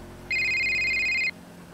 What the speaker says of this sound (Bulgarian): Некой ми звъни една секунда.